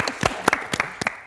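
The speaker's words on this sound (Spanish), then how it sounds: "nos damos un aplauso colectivo" A few scattered, separate claps from a small group at a music composition talk, brief and close, ending quickly.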